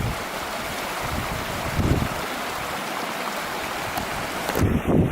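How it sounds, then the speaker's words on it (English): A small river flowing through Hell Valley, Jigokudani, in Japan, gives a steady broadband rush of water with some wind noise on the microphone and a few brief louder surges. "And this little river flowing through."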